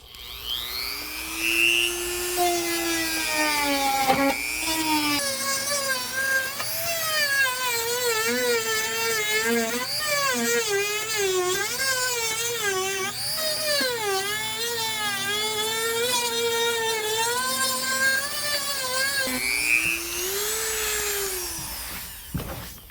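A small high-pitched rotary grinder whines continuously at close range, its pitch rising and dipping as it sands the plastic edges of an airbrush case smooth.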